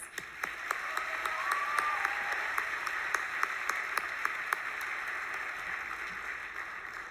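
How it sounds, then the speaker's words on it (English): Graduation audience at McGill University's 2023 convocation applauds steadily, a broad wash of many hands with a few sharp nearby claps standing out, sustained for several seconds without speech. "let's give them all a round of applause"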